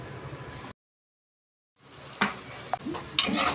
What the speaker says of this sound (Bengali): এরপরে আমি সুন্দর করে যা যা মশলা লাগবে তা দিয়ে কষিয়ে নেব এবার আলুর সাথে।